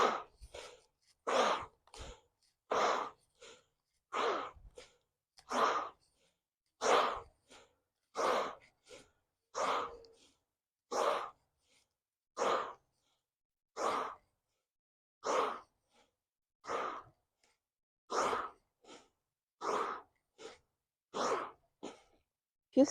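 Rapid, forceful Bhastrika bellows breaths in a pranayama exercise, about two dozen sharp rushing inhales and exhales in a steady rhythm, close and alone with no talking.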